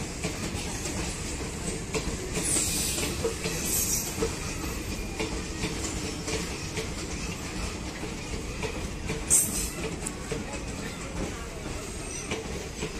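A train rolls through Duliajan station, heard from above the platform: a continuous rumble with rhythmic wheel clatter and occasional high metallic squeals, steady and fairly close throughout.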